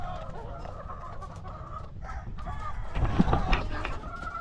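Chickens cluck and murmur softly in the background, some sick and unable to stand, a steady low flock chatter with a slightly louder burst of clucking near the end.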